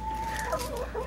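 A chicken clucks nearby in short, soft bursts over a steady background hum at a house with several pets.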